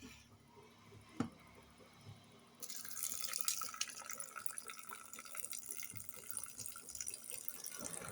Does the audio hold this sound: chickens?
no